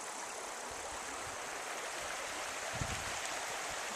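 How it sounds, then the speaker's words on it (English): Spring water bubbling up out of the ground among rocks on a hiking trail, a steady soft gurgling wash with no speech. "So this is one spot where the water's just kind of bubbling up out of the ground."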